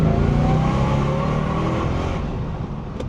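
A powerful Jaguar V8 in a manual-swapped 2004 Jaguar XKR revs hard as the car accelerates, a loud sustained roar with rising tone that eases slightly toward the end.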